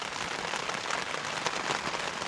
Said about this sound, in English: So for now, I'm going to listen to this rain